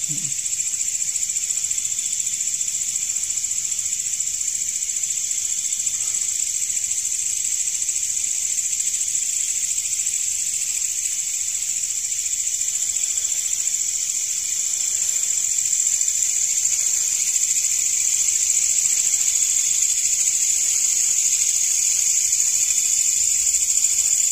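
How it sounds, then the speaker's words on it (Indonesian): A loud, steady chorus of crickets fills a night outdoors with a continuous high shrill, dense and unbroken throughout, with no voices. "suara jangkriknya semakin keras"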